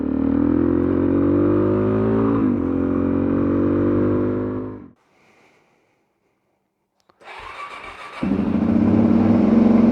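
A Suzuki DRZ400SM motorcycle engine runs loud and close, steady for about five seconds, then cuts to near silence before restarting and revving up again toward the end.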